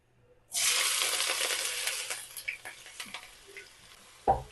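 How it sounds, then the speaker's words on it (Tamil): Sliced onions hit hot oil with fennel seeds and burst into a loud, steady sizzle that slowly settles into crackling pops, with a clink of a utensil near the end. "சோம்பு போட்டிருக்கோங்க ஆயிலில். இப்போ வெங்காயம் போடுவோம்."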